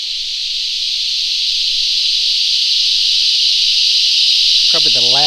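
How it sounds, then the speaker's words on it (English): A loud, steady, high-pitched buzzing drone of cicadas on dirt tracks near Torquay fills the air without pause; a brief voice cuts in at the very end. "probably the loudest cicadas I've ever heard"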